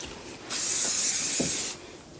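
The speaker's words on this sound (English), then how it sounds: "A little bit of hairspray." Hairspray misted onto styled hair in a salon, a single steady aerosol hiss lasting just over a second, close and fairly loud against a quiet room.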